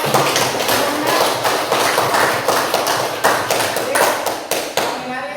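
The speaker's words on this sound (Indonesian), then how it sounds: "tepuk tangan dulu untuk kelompok 2" A classroom group claps for group 2 after their presentation, a steady burst of many hands applauding close by, with speech mixed in underneath.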